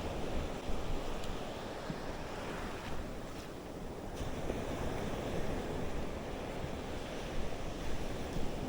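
Surf rolls steadily onto a beach under gusting wind, a continuous broadband wash with no voices, heard on a shore where people cast fishing lines ahead of an approaching storm.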